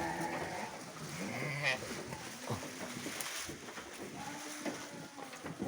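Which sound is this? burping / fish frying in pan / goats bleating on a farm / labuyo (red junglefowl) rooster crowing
goats bleating on a farm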